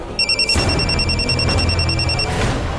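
A phone rings with a repeated electronic trill, a steady pulsing tone running for a couple of seconds amid faint background noise.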